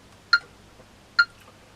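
A metronome set to 70 BPM gives two crisp, bright ticks about 0.85 seconds apart, clear and alone against a quiet background.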